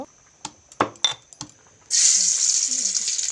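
Crushed garlic hits hot oil in a pan for tempering lentils, first a few clinks and taps, then a loud, steady sizzle that fills the rest of the moment close up.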